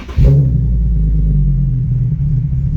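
A tuned car engine cranks and catches at once, then settles into a loud, steady idle with a deep low rumble and slight lope, close by with no talking.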